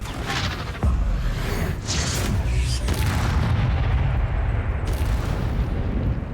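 A booming Confringo explosion spell from the Hogwarts Legacy video game bursts loudly with a heavy rumble and whooshing blasts that roll on continuously without any voices.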